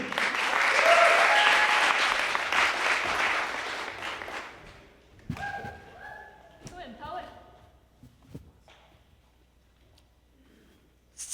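A poetry slam audience claps and cheers for poet Mason, starting loud and sustained before fading after about four seconds, with a few voices and scattered sounds trailing afterward.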